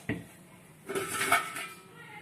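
Traditional clay cooking pots clink and clatter as they're set down and shuffled, a soft knock first, then a brighter ringing clank of clay against clay.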